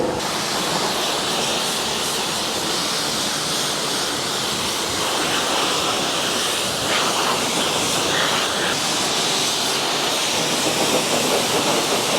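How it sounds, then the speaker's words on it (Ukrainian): Continuous loud hiss of a high-pressure water spray at a car wash, steady and close throughout with slight shifts in tone. "Вода під тиском."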